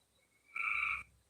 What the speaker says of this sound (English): People like our frogs in the background.